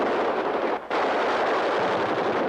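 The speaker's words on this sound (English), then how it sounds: "On the firing range, they try out the latest machine guns." A 50-millimeter anti-aircraft machine gun firing on a range as one dense, continuous roar of rapid shots, with a single brief break before the burst resumes, loud and close.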